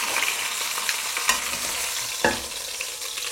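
Beef shank browning in a hot pan sizzles steadily and close, with a couple of sharp scraping stirs and faint crackles over the continuous hiss.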